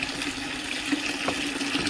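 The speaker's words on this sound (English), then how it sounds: "Don't want to pour too fast so it doesn't chug a lug and splash out everywhere." Liquid pours steadily into a mead fermenter, a continuous gushing, splashing trickle close by with no speech.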